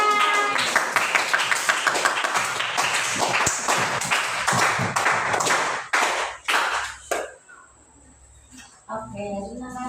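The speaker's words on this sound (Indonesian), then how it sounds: "Tepuk tangan kelompok 5" Classroom applause for a student group: a dense burst of many hands clapping fast for several seconds, then tapering off into quieter room sounds and scattered voices.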